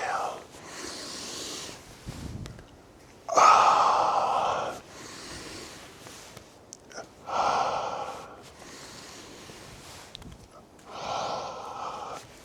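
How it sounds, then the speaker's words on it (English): Close, breathy exhales during a gentle breath-led morning movement routine, three strong outward breaths spaced several seconds apart with softer breathing and quiet rustling between them. "Exhale."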